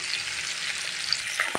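Onion, ginger and garlic paste fries in hot oil in a pan for taki fish dopeyaza, producing a dense, even sizzle with small spatters and a slight scrape of stirring near the end.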